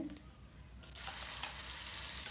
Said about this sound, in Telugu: అల్లం ముక్కలు ఈ పప్పులు మంచి కలర్ వచ్చేటట్టు వేయించుకుంటే బాగుంటుంది తాలింపుకి